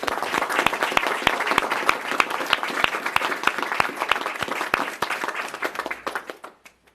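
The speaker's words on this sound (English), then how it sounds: "Let's give everyone at Catholic Charities a big round of applause" A crowd gives a round of applause for Catholic Charities staff at a mayoral housing announcement, with sharp individual claps standing out over a dense wash that fades out near the end.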